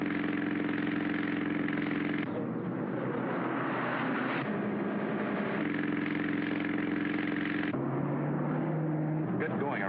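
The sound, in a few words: car engine during a getaway drive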